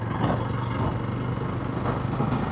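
A 300cc old-style cruiser motorcycle in sixth gear, ridden in city traffic, eases off speed with a steady, close-up engine drone mixed with road and wind rush.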